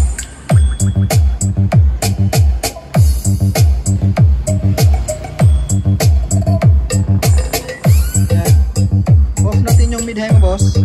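Subwoofer and mid-high speakers on integrated amplifiers play music together, loud and close, with a steady pounding bass beat under bright, dense upper tones throughout.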